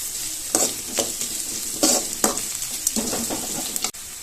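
Chopped vegetables and green chili being sautéed in a pan for wheat dosa batter, a close steady sizzle punctuated by repeated scraping stirs of a spatula, with no voices.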